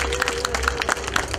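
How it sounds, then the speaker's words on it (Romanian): Audience at an earthquake-preparedness talk clapping steadily, a dense, continuous patter of many hands at moderate distance, with no one speaking over it. "Dacă s-au descurcat bine, aplaudați-le tare."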